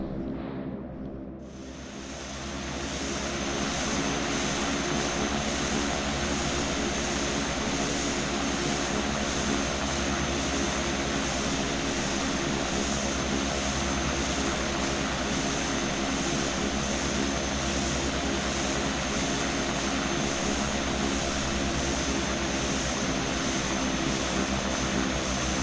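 A simulated T-6A Texan II turboprop taxis in Prepar3D, its propeller engine holding a steady, loud drone with a pulsing high whine that stays constant throughout after a brief quieter start.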